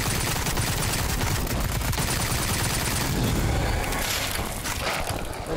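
Dense, continuous gunfire in a video game, overlapping shots and booms forming a loud, steady barrage with no pauses.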